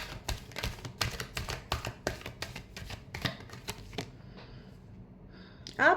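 A tarot deck is shuffled up close in quick, crisp riffling flutters for about four seconds, then goes quiet apart from faint handling and a brief soft rustle at the end.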